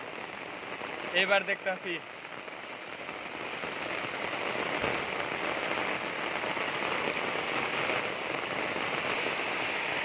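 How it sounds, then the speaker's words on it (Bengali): Heavy rain pours steadily since early morning, a dense, constant hiss of drops close by that fills the whole stretch, with a brief spoken remark near the start. "সকাল 4টা থেকে বৃষ্টি হইতেছে, পুরা পানি পড়তেছে।"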